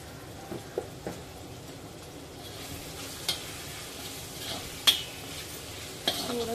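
Bottle gourd curry with chili powder sizzling softly in a pan, with a low steady frying hiss broken by occasional clinks and scrapes of a spoon stirring the vegetables.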